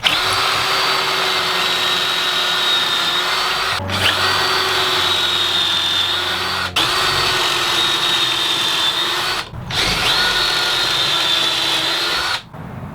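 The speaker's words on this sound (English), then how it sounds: "Now using my pocket hole jig, I'll drill pocket holes so I can start some assembly." A power drill bores pocket holes in wooden end table pieces held in a pocket hole jig, a steady loud whine running in long bursts separated by brief stops.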